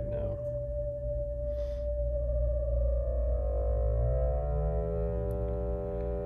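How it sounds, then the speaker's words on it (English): A synthesizer tone with a steady pitch whose filter, modulated by a triangle wave, sweeps smoothly, giving shifting, rising and falling overtones over a continuous low drone. "this is a triangle wave I'm using as the modulation source"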